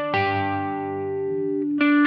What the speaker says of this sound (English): Then with the Lillian Phaser kicked on.